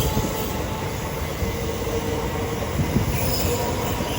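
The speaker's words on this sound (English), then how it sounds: "Down the far distance will be a terminating Southeastern service from London Charing Street" Southeastern Class 376 electric train at Orpington station on the South Eastern Main Line, a continuous loud rumble of wheels on rails with faint squeal, steady throughout with no voices.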